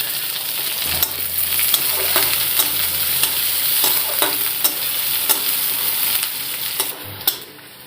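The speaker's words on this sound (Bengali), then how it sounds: "পেঁয়াজ ভাজা হয়ে গেছে" Onions with panch phoron spices sizzle steadily in a hot pan, with sharp scraping clicks of a spatula stirring now and then; no talking.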